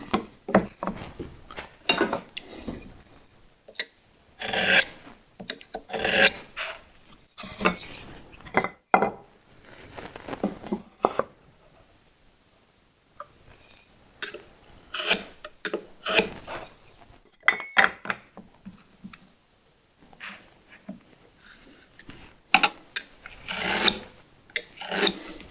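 Pencil tip rasping along a wooden board to mark a line for hand-tool joinery, in repeated close scratchy strokes with short pauses between passes.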